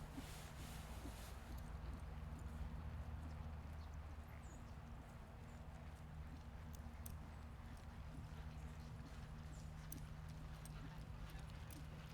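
A horse jogs and trots in a lesson setting, its hooves giving faint rhythmic clip-clops beneath an instructor's voice and a steady low background hum.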